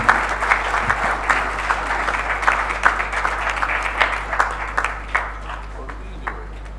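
Audience applause at a 2018 business roundtable: dense, sustained clapping from a seated crowd that fills the whole stretch with a few louder peaks and no break.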